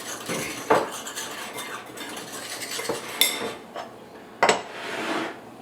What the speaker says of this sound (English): Give her a real good mix up